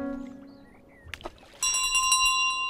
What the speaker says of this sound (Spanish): si me movía mucho, sonaba la chingada campana y ya vimos que sí